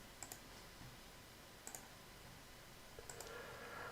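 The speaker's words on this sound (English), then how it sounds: "Let me type it in properly." Three short bursts of keystrokes on a computer keyboard, each a quick cluster of light clicks spaced about a second and a half apart, faint and close, with no voices.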